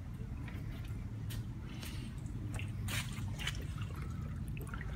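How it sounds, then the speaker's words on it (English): An air-operated aquarium canister filter runs with dripping water, giving a continuous low bubbling hum with scattered soft drips and trickles, close and fairly quiet. "So there you go, an air-operated canister filter."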